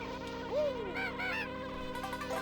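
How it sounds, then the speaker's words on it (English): Bees buzz in Banjo-Kazooie's Mad Monster Mansion level, with whiny, wavering drones that swoop up and down in pitch over a steady background of game music. "Don't die to the bees."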